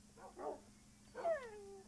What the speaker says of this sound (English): a bunch of my dogs are out here